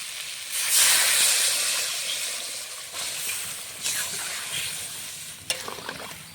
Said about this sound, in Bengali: মশলার সঙ্গে সবজিটা কষিয়ে নেব